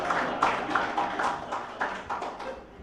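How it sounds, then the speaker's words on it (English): An audience at a university event honouring a professor claps in short, fairly quiet bursts, with each round of applause rising and fading over a few seconds. "If you wish, you can clap the second time"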